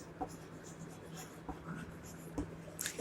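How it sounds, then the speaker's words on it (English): Writing out a triangle's side lengths for a class-6 geometry lesson, soft scratchy strokes of pen or chalk in a few short bursts, close and fairly quiet with no talking. "So here we will write equal side."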